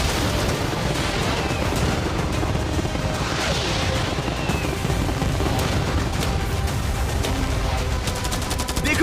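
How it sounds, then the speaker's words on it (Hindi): Cannons, fireworks, arrows and catapults fired all at once in a mock attack on a yacht: a dense, continuous barrage of booms, bangs and crackling explosions that stays loud throughout, with no pause. "मैं चाहता हूँ कि तुम कैनन्स, फायरवर्क्स, एरोस, कैटापल्ट्स सब कुछ एक साथ फायर करो।"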